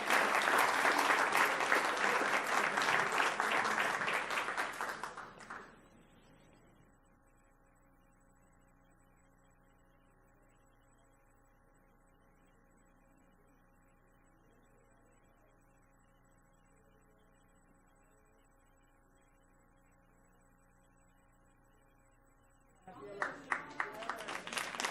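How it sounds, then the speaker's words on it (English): Audience at a board meeting breaking into a burst of applause that stops abruptly, followed by a long quiet stretch of low room hum, then clapping starting up again at the end. "Let's give her a round of applause"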